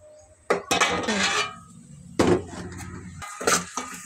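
A metal lid set onto a cooking pot of onions and green chillies in a home kitchen: a few sharp clanks and rattles, close and fairly loud, with short gaps of quiet between them.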